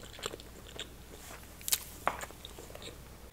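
Quiet bites and chews on salmon sushi rolls, close to the mic, with a few sharp crunchy snaps and soft wet mouth sounds spread through a few seconds of otherwise low background.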